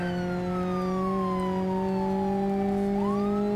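A police car in the BeamNG.drive video game with a straight-piped exhaust: a constant loud engine drone holds steady underneath while a siren tone slowly sweeps down and then rises again.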